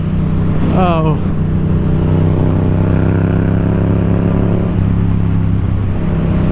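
A 2021 Yamaha MT-07 motorcycle accelerates hard from the rider's position, its engine note climbing quickly through the revs and then holding a loud, steady drone; the rider exclaims briefly over it.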